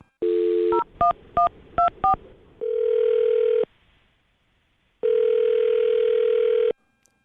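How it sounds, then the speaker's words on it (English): Telephone keypad tones beep in a quick series of short dual-tone blips, then a long ringback tone sounds twice with a pause between. "I'm going to dial his phone number right now."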